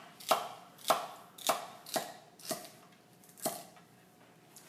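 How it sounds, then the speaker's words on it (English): A Zwilling kitchen knife chops vegetables on a board, seven or eight sharp, evenly spaced knocks about half a second apart, close and clear with quiet room tone between strikes. "Now we're actually hear a chopping sound."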